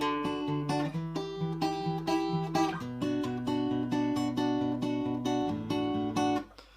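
Fingerstyle acoustic guitar intro of a song, picked notes over ringing chords, steady and clear at moderate volume, solo with no voices, ending on a let-ring fade.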